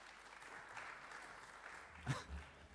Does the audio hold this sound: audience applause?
yes